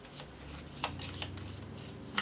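Shuffling a deck of game cards at the table during a board game, a soft steady riffle with a few sharper snaps, close and fairly quiet with no talking.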